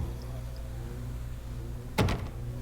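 A locked door is tried in the video game The Park. One short, loud rattling clunk breaks a quiet, low background hum near the end.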